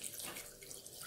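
Water running and trickling into appam batter in a Sri Lankan kitchen, a brief soft pour with faint splashing, no talking.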